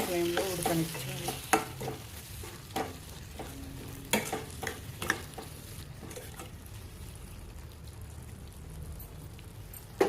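Ridge gourd tomato curry is stirred in a pan, with repeated scraping spoon strokes and taps over a soft sizzle, louder at first and then quieter.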